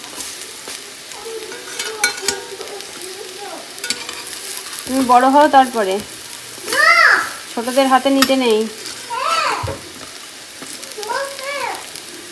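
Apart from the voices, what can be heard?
food frying in a wok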